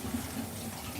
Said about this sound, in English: now I'm rinsing off the tomatoes